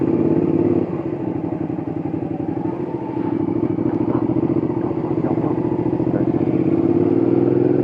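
A Suzuki SV650 motorcycle engine drones loudly and steadily while riding, a constant close rumble with a slight dip and rise in pitch partway through.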